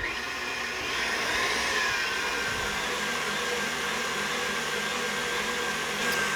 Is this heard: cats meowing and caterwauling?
no